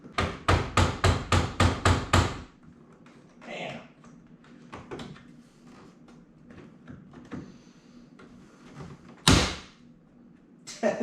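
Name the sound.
VW Jetta fog light being forced to clip in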